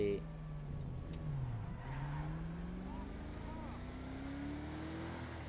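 A modified convertible Rolls Royce driven in the video game GTA 5, its engine tone steadily rising through a gear change, fairly quiet beneath background game sound.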